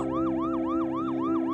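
An ambulance siren wails in a steady, repeating rise-and-fall pattern, loud and close, with about six even cycles and no voices.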